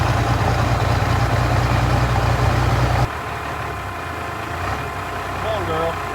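An old diesel engine runs at idle, a loud, steady low rumble that drops in level partway through and continues more quietly, with voices faintly in the background.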